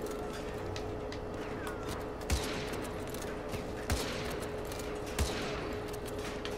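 Gunfire in the Modern Warfare 2 Remastered campaign, heard as three muffled single shots spaced a second or more apart over a dense, constant background of game ambience and rumble.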